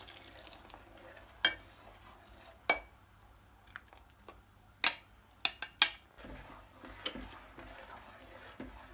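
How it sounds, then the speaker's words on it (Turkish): Sparse clinks and scrapes of a spoon stirring egg mixture into hot milk in a pot for Turkish baked rice pudding, a few sharp metallic taps spaced irregularly over quiet kitchen background. "Yavaş yavaş eklerken bir yandan da karıştıracağım."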